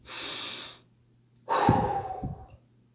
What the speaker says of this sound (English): So, we're going to do the breathing.